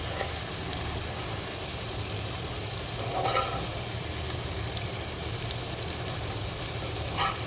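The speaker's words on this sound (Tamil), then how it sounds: "ஸோ எண்ணெயில் கொஞ்சம் நல்லா ஃப்ரை ஆகணும்," Mashed potatoes fry in oil for a potato masala, giving a continuous close sizzling hiss broken by a few brief stirring scrapes.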